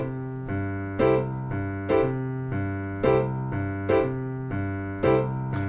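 Piano playing a Charleston rhythm, the right hand striking chords on and off beat over steady left-hand root-five bass notes, a clear repeating swing pattern, moderately soft and alone.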